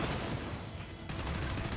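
Cannon fire in the video game Borderlands 3 comes as a dense, continuous barrage of loud blasts with no pauses.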